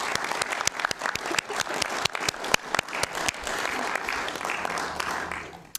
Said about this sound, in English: I'd like to just give a round of applause for Christian if we could.